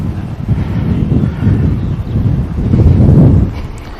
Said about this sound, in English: It is a little windy out here, so I do apologize if you guys are hearing wind in the distance